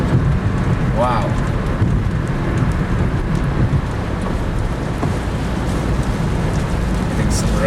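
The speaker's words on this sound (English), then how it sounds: "Getting some rain. It's light for now." Light rain falls steadily during a Florida thunderstorm, a continuous broad hiss with faint rumbling and a brief tonal chirp partway through.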